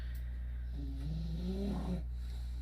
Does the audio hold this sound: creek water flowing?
no